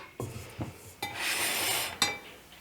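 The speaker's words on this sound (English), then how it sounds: "I'm just periodically stirring this just to help it cool off a little bit more" A spoon scraping and clinking inside a pot of cooling eggnog, several short knocks, then a sustained rubbing stir and a final clink, close and moderately loud.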